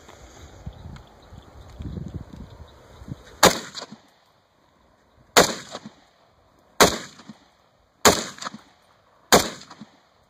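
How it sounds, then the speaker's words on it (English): A CETME HK91 rifle fires 7.62x51 surplus ammunition outdoors at a longer distance, five sharp, loud, separate shots spaced one to two seconds apart, after a stretch of low rustling and handling noise. "So I'm going to drop back and shoot some more at a little farther distance"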